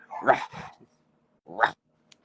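A voice imitates a dog barking, two short yapping woofs separated by a pause, close and fairly loud.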